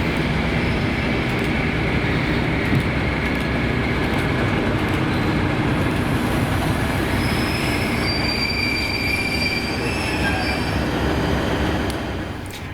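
Class 37 diesel locomotive 37219 easing to a stop at Ardrossan Town station at night, loud and close, with a heavy rumble, squealing wheels and high metallic screeches rising as it brakes, then fading slightly at the end.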